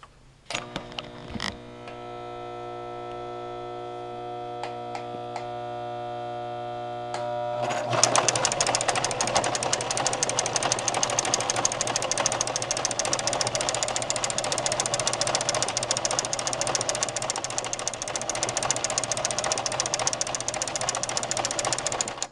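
A Brother LX3014 sewing machine sews a large zigzag stitch with a twin needle and flower foot. A short motor whine and clicks come first, then a loud, fast, steady run of rattling stitches that lasts to the end.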